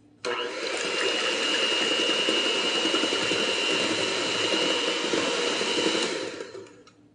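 An electric hand mixer whirs steadily through cream cheese batter for an earthquake cake, a dense, constant motor drone that starts abruptly and runs for about six seconds before fading out.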